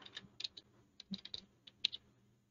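Quiet, irregular clicking of a computer keyboard being typed on, with bursts of quick keystrokes separated by short pauses.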